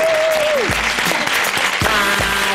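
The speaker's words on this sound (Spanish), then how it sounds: "Fora aplaudiment." Studio audience applause on a television talk show, loud sustained clapping with a few tonal musical accents running through it.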